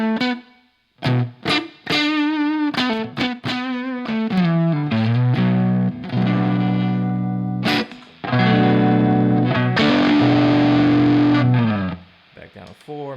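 Electric guitar through a Big Monk Pompeii fuzz pedal rolled back for clean-up, played alone and loud as a series of strummed chords and single notes with brief pauses between phrases.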